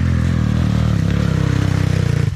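A Bashan 250 motorcycle rides past on an off-road outing, its engine a loud, steady low drone that holds throughout with a slight rise in revs toward the end.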